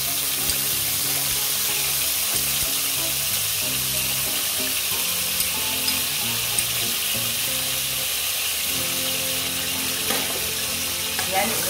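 Broccoli and prawns stir-frying with soy and oyster sauce, a constant bright sizzle with a watery hiss and occasional stirring, close and even throughout with no voices.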